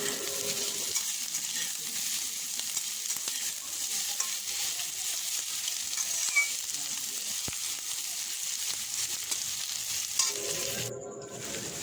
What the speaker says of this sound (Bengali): আর এখন পেঁয়াজটা ভালো করে ভেজে নিচ্ছি লাল লাল করে।